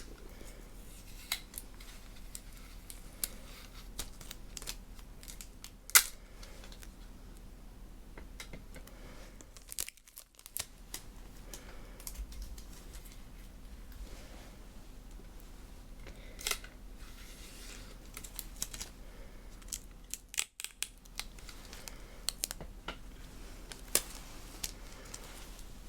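Scotch tape is cut and pressed on during a close-up mock urgent-care exam, making crisp snips, crinkles and sticky tearing sounds scattered over near-silence, with brief quiet gaps.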